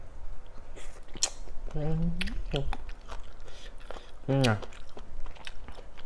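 Squid from a very spicy seafood papaya salad being bitten and chewed up close, with soft wet crunches and squishes, while a person makes short vocal murmurs between bites.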